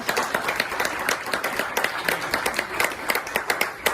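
A congregation at an outdoor service in a park claps together, producing a steady, rhythmic patter of many hands at mid distance that keeps going throughout.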